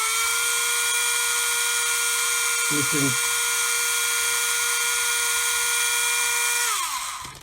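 A Tamiya drill spins a model aircraft gun barrel against a sanding stick, giving a steady, close, high-pitched motor whine that runs throughout and winds down at the end, with a brief spoken remark midway.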